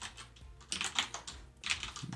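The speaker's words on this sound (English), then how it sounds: "Type in command install." Quick bursts of keystrokes on a computer keyboard as a command is entered, light and close, with a short pause partway through.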